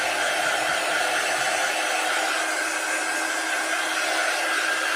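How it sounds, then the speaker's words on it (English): A heat tool blows hot air to dry paint on a peel-and-lift craft project, giving a steady, loud, close whirring hiss that runs unbroken throughout. "And this is our heat tool, and it's just going to help speed up the drying process just a little bit."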